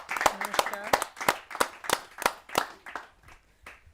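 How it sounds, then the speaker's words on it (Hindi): Scattered hand claps from an audience at a Hindi kavi sammelan poetry gathering, uneven and fading toward the end, with voices mixed in. "जोरदार तालियों से मैं आमंत्रित करता हूं"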